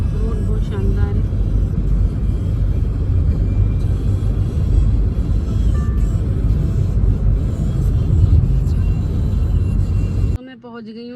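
A car cruises along a smooth road, its steady low rumble filling the whole stretch before cutting off abruptly near the end.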